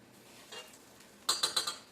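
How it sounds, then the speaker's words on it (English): Two black bean burgers coated in cornmeal dropped into a hot frying pan, giving a quick run of four sharp, close clinking and sizzling hits after a soft earlier rustle. "Now I'm going to add them to the pan."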